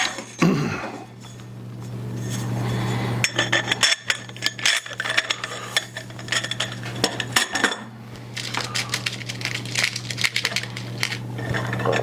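Drilled wooden pieces for a folding work table slide and clatter onto a threaded rod, giving a run of sharp metallic clinks, knocks and scrapes, loud and close, with no talking.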